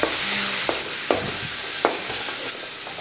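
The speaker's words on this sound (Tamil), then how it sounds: "இதையும் நாங்கள் இப்படி நல்லா கலந்துக்கிறோம்" Chicken sizzles in a pan as spices and salt are stirred in. Several sharp scrapes and knocks of a spoon cut through a constant loud frying hiss, and there is no voice.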